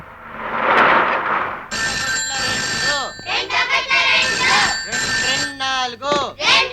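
A telephone rings with repeated electronic tones while voices talk over it.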